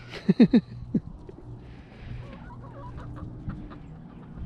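Chickens in a backyard chicken run on a homestead give a few sharp clucks up close at the start, then quieter, scattered clucking and rustling in the open air.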